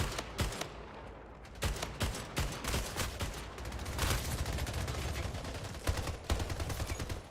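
Rapid bursts of gunfire from a weapon in the video game Splitgate, clustered volleys and single shots repeating loudly over a dense game soundscape, with no talking.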